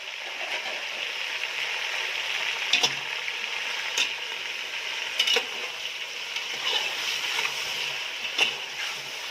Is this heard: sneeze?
no